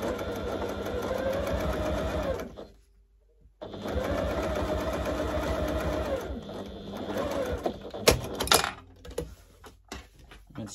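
A sewing machine top-stitches the binding along the edge of an indoor slipper. The steady, close motor hum runs for a few seconds, stops briefly, then resumes and trails off into scattered handling noises.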